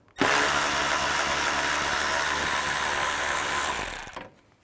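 Power tool with a 7mm socket spinning out a headlight bolt on a 2013-15 Chevy Cruze, a loud continuous close whir lasting about four seconds before winding down.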